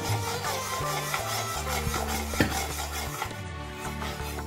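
Besan (gram flour) roasting in a pan is stirred with a utensil, making close, repeated scraping and rubbing strokes against the metal, with a faint low hum underneath and no voices.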